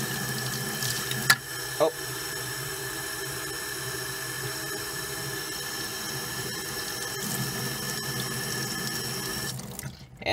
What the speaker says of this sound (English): Okay, it looks like the circuit board's done. Let's wash it off.